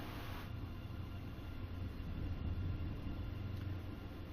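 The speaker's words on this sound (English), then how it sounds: "Gorgeous, gorgeous train, isn't it?" An ICE high-speed train in Train Sim World 5 runs at speed, giving a steady low rumble and rolling drone that holds evenly throughout with no voices.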